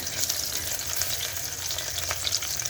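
Chopped onions fry toward translucence in a pan, giving a dense, even, close-up sizzle with light spitting crackles and no talk, for a short stretch.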